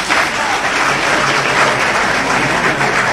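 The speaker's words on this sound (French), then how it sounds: "il faut l'applaudir." A crowd applauds the health minister at a Guinean presidential youth event, giving dense, sustained, fairly loud clapping that holds steady without a break.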